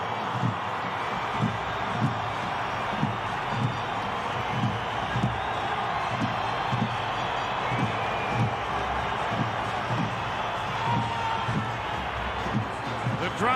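Rugby league stadium crowd at an NRL 2024 Bulldogs v Sea Eagles match, with drums beating a steady, even rhythm under a constant roar of crowd noise throughout.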